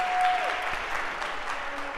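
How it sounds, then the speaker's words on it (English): Lecture-hall audience at a Harvard CS50 computer science class breaks into applause for a volunteer, a dense wash of many hands clapping that stays fairly even across the moment. "OK, a round of applause for Claire for being so enthusiastic."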